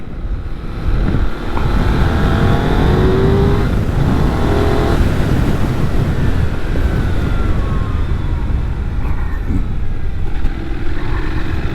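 A loud Benelli 752S (2021) motorcycle engine roars and revs continuously, rising and falling in pitch, close by and steady throughout with no voices.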